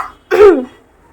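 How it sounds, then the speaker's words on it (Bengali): A single close, loud cough, harsh and throaty, caused by pungent fumes in a home kitchen. It is brief and standalone, with faint background before it. "কাশি হচ্ছে"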